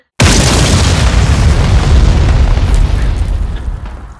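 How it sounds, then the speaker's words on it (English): A loud, sudden boom bursts out and rumbles on for a few seconds before slowly fading away. "Explosion."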